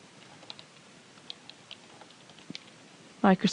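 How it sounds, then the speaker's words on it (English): Keys on a computer keyboard tap in a light, uneven run of soft clicks close by, during basic PC maintenance, before a voice starts speaking at the end. "just go back to your browser and type in Microsoft"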